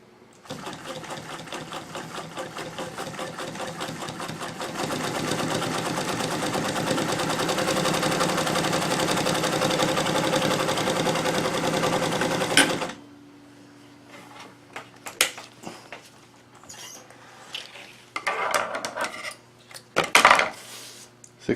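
Bernina Chandler 217 industrial sewing machine sews a 6 mm zigzag through two layers of 1000 denier Cordura, a steady loud mechanical whir for about thirteen seconds, then stops, followed by scattered clicks and handling clatter.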